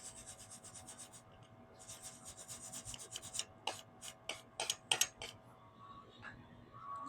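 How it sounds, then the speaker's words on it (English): A cloth rubs and wipes over a hammer at a welding bench, soft steady swishing followed by a cluster of sharper scraping strokes, close and quiet with no voices. "Just give it a nice wipe down"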